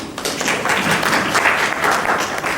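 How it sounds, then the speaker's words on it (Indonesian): Audience at an opening ceremony in a library service hall breaks into applause, a dense burst of many hands clapping close by that holds steady for a couple of seconds. "tepuk tangan Bu."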